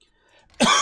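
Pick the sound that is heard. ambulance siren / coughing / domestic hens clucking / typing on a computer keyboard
coughing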